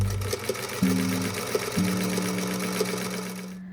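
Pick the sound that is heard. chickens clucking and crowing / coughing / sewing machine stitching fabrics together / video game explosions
sewing machine stitching fabrics together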